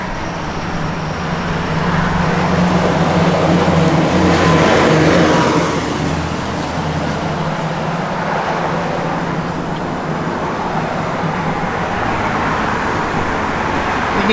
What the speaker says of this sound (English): it's got a good sounding exhaust on it